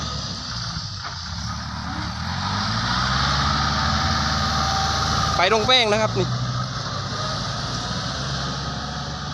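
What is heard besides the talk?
tractor engine pulling a heavy load uphill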